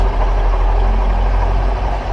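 A Honda Fan 125 motorcycle engine with a noisy cam chain, running loud and close under load with the front brake applied, a continuous low rumble and mechanical rattle and no talk.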